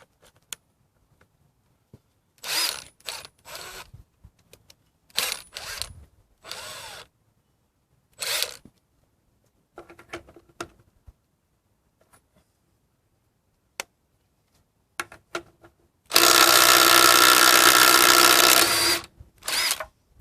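A Milwaukee impact driver works a lug nut on a Ram, heard as several short hammering bursts spaced apart, then one long, loud sustained run of impacting near the end; no talk.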